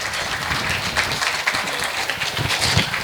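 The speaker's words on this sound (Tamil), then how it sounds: "மாணவர்களுக்கு கைத்தட்டி ஊக்குவிக்குமாறு கேட்டுக்கொள்கிறோம்" An audience at a Tamil school Pongal celebration claps to encourage students receiving medals, a steady, moderately loud wash of applause lasting a few seconds.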